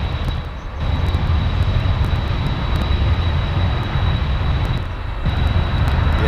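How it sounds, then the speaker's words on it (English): An Airbus A320 airliner landing at London Heathrow Airport, a broad, steady jet engine roar heard from a distance, continuous and fairly loud with a slight swell. "Is the Icelandair after the 320 that's landing?"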